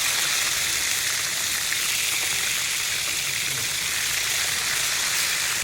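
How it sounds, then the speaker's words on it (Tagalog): Steady, dense sizzling of tilapia frying in hot oil in a pan, a continuous crackling hiss with no pauses, close and fairly loud. "Simple lang mag-prito."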